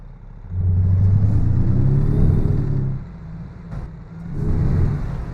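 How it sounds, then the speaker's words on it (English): An International LT truck's Cummins diesel engine in American Truck Simulator drones and revs up, then eases off and builds again, a steady low rumble heard from the cab. "The engine sounds pretty good in here. It is a Cummins engine."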